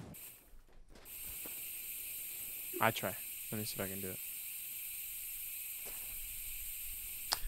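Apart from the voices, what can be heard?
spray paint hissing onto car hood in The Long Drive video game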